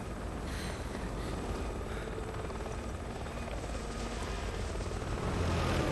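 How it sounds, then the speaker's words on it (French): An aircraft in the video game Resident Evil 6 drones with a loud, steady rotor-like rumble and whir, holding close and constant throughout with no voices heard. "pars, maudit avion"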